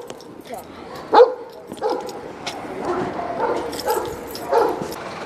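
Dogs bark and yip in short bursts around a home during preparations for a walk, a few sharper barks standing out over steady background chatter and movement, with people talking nearby.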